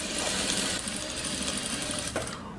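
A sewing machine stitching together pre-cut fabric blocks for a table runner with a presser foot, a steady fast whirring hum running close and continuously, stopping abruptly at the end.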